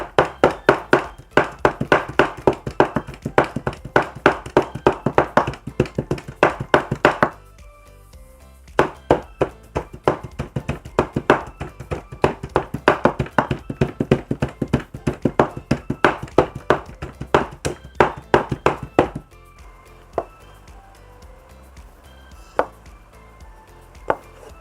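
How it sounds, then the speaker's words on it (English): A cleaver chops quickly and steadily through pork on a cutting board, giving rapid, sharp, close knocks in long runs with short pauses between them. "we start mince the pork."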